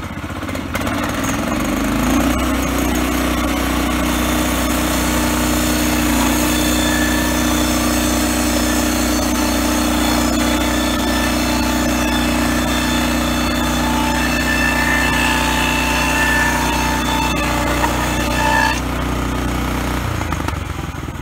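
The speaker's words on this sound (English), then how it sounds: "I got an Oscar 428 with the trailer package here." An Oscar 428 portable sawmill on its trailer package runs steadily while edging slab wood, a loud, continuous engine drone with a sustained cutting whine over about twenty seconds, starting up and then dropping off near the end.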